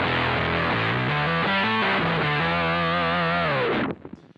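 Electric guitar played through an MXR Sub Machine pedal with amp distortion, giving a thick, muddy, sludgy tone as a loud sustained riff with shifting low notes that cuts off near the end.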